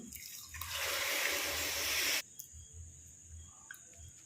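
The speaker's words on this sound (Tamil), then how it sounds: "பருப்பு முழுகிற வரைக்கும் நிறைய தண்ணி ஊற்றிக்கணும்" Water pours steadily into a cooking pot of lentils for about two seconds with a rushing splash, then stops abruptly, leaving faint drips and quiet background chirps.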